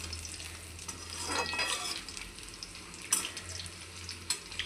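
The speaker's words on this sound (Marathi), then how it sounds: "एवढा फ्रेंड्स छान फ्राय होत आहे" Potatoes and onion frying in a pan for a simple potato bhaji, giving a steady soft sizzle with occasional crackles and faint scraping, heard alone at low level.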